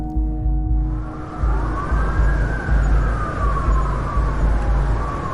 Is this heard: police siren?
yes